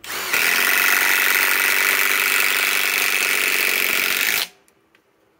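A cordless impact driver on a Master Force Boost 5-amp battery drives a 6-inch timber lock screw in one loud, steady whirring burst of about four seconds, then stops abruptly.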